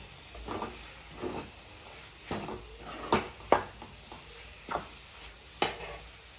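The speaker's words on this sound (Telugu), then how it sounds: "ఎగ్ పీసెస్ అనేది ఈ సైజు ఉండేలా కలుపుకోవాలి." Egg and spring onion fry being stirred in a pan: a faint steady sizzle runs underneath while a spatula scrapes and taps the pan in a loose rhythm of short clicks, with no talk.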